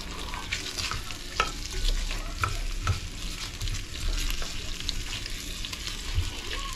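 Onion and ginger sauté in a pan as aromatics for beef balbacua. A close, continuous sizzle carries frequent scraping stirs and occasional sharp taps of the utensil against the pan.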